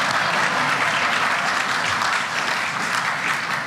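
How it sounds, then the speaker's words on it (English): Audience applause at a graduation ceremony: dense, steady clapping from a large crowd that holds at an even level for the whole stretch, with no talk over it. "We're supposed to clap now."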